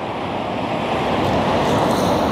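Waves washing on a winter beach with wind buffeting the microphone, a steady, loud, broadband roar with no pauses across the short stretch.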